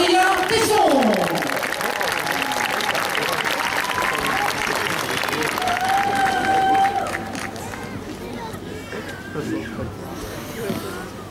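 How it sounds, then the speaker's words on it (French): A crowd applauds at the inauguration of the ice rink in Rochefort, a steady dense clapping that fades somewhat toward the end, with voices and tonal background sounds mixed in. "mesdames et messieurs, n'hésitez pas à applaudir"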